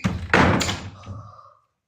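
A bathroom door is pushed shut with a close, heavy thud and a brief rattle, and the sound then fades into silence.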